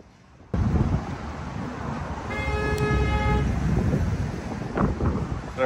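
Car horns honk in street traffic in a small California town, one held tone sounding across the middle amid steady road and wind noise, with shorter toots near the end.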